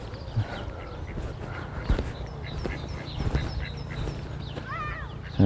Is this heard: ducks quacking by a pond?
yes